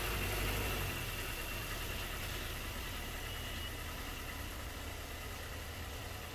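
A car engine idles steadily at low volume as the car is moved out to make room for a tire swap, a continuous hum and faint vibration fading slightly, no talk.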